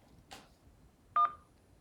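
A telephone keypad gives a single short, clear DTMF beep as the 1 key is pressed during an automated phone menu call, heard alone after a faint brief click in quiet.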